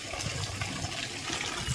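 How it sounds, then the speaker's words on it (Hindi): Water gushes steadily into a vessel outdoors, a continuous close rushing fill without pauses. "थोड़ा पानी और ऊपर तक भरो।"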